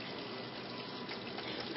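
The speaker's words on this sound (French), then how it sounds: "se mouiller les mains" Tap water running steadily into a sink while hands are wetted, a continuous soft hiss and splash at low volume, with no voices.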